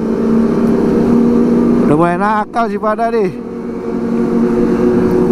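A Kawasaki ZX25R motorcycle engine revs hard in a few quick, rising high-pitched bursts that stand out over a steady engine drone, with someone talking over it.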